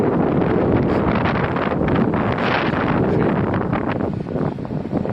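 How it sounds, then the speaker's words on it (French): Strong wind roars across the microphone in a loud, constant rumble with rustling gusts and no talking, while riding a Cyrusher Grace e-bike. "Et là on s'aperçoit qu'il y a quand même pas mal de vent."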